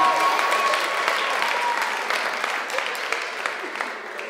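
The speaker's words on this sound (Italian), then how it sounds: "fate un applauso a Samuel Ais" Applause from an audience at a leadership training session in Milan, a dense, even patter of many hands that tapers slightly over four seconds.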